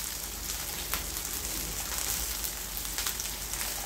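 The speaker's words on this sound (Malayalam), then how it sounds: "ഇനി നമുക്ക് ഇതിലേക്ക് ചിക്കൻ്റെ പീസസ് എല്ലാം ഇട്ടൊന്ന് ഫ്രൈ ആക്കി എടുക്കാം" Chicken pieces frying in a pan for butter garlic chicken, a continuous dense crackle and spatter with scattered sharper pops, close and even throughout, no talking.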